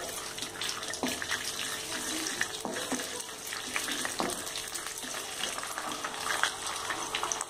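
Cashews frying in hot ghee for sweet pongal give a steady, dense sizzle throughout, broken by a few soft clicks and scrapes as they shift in the pan.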